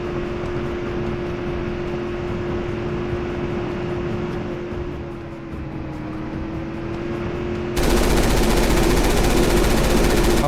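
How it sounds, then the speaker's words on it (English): Machine gun laying down suppressing fire in a video game: a steady, rapid, continuous rattle over a sustained tone, swelling into a louder, denser roar near the end; no talk. "I'll lay down the suppressing fire and waste all the ammo"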